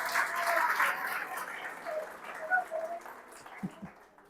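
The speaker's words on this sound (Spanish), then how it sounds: "un aplauso a Tabasco." An audience at a retreat held at an abbey gives soft, diffuse applause that sounds like rain and fades gradually, ending with a couple of isolated claps.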